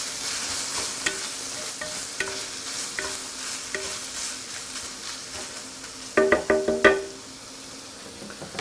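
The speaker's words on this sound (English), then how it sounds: "keep it down at a low heat so nothing burns and it just has a slow simmer point" Beef bolognese sauce cooking on low heat in a pan, with a steady soft sizzle and repeated spoon stirring and scraping, and a louder burst of clattering stirs near the end.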